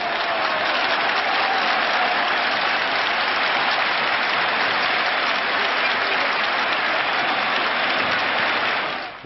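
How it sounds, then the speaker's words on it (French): Hostile football crowd near Heysel clapping in a 1986 French television news report, a thick continuous roar of applause like heavy rain, sustained loud and even for nine seconds with no voices standing out. "Écoutez donc les applaudissements de la haine."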